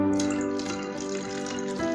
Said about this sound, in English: Now we will put the water in this bottle very carefully